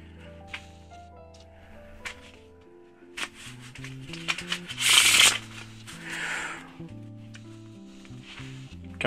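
A deck of Zombie playing cards on Bicycle-style stock being handled and shuffled, soft riffles and flicks with one louder burst of rapid card fluttering midway, close up, over faint background music.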